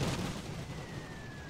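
Machine gun crews trade fire in the WWI strategy game The Great War, a dense, steady rattle of gunfire heard at a distance, with a faint high whine running through the background.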